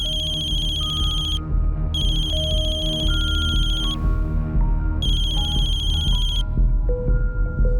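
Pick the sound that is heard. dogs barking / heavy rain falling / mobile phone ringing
mobile phone ringing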